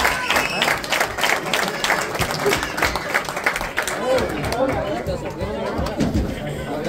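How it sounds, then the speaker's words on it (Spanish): Arena crowd applauding during a tribute event, steady dense clapping mixed with chatter and cheering throughout, with a voice speaking over it at times. "el aplauso también es para ustedes"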